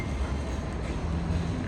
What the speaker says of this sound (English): We got a tram coming now.